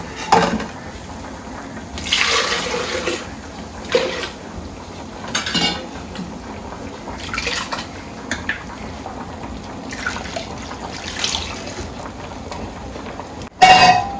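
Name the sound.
pouring ground coconut masala and tamarind water into fish curry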